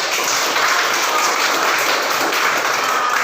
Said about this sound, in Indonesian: Sebelum ada tanggapan, kita berikan tepuk tangan